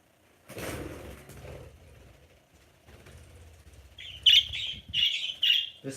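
Several agitated pet budgies give sharp, high chirps in short bursts in the second half, close and fairly loud, after a stretch of low handling noise and rustling.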